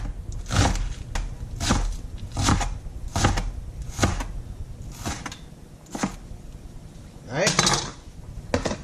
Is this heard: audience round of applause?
no